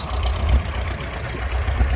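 An old tractor engine used for spraying runs steadily outdoors, a loud, close low rumble with a slightly uneven, throbbing idle and no talking.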